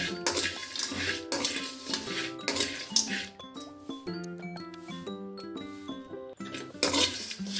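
Ingredients for a village-style fish curry are dry-roasted in a pan over a low flame, with repeated metallic clinks and scrapes of a spoon stirring against the pan and no talking.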